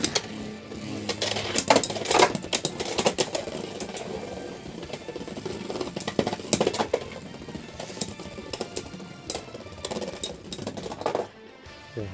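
Beyblade tops launched into a stadium, spinning and clashing: rapid metallic clicks and sharp collision bursts, some clustered, others sparse, under a whirring spin, with loudness rising and falling before it cuts off near the end.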